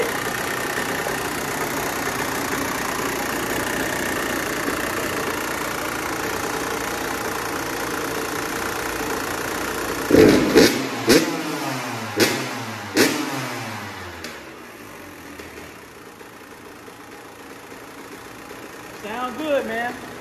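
A 2014 Kawasaki KX100 dirt bike runs with a steady engine drone, then gives several sharp throttle blips before settling into a lower idle, while people talk nearby.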